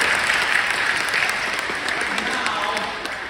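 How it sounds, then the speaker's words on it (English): Sustained applause from an audience at a Monster Day event, a steady dense wash of clapping held at an even level from start to finish. "Give him a round of applause"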